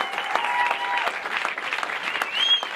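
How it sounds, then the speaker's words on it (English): An audience at a film event claps for a screened movie, a moderately loud burst of applause with a few sharp individual claps and faint whistles standing out above the crowd. "please give me one more big, warm round of applause for this powerful movie."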